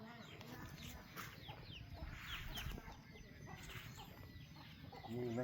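Chickens cluck and call inside a chicken coop at a rural house, their sharp clucks and squawks scattered over a quiet, breezy background with faint voices near the end.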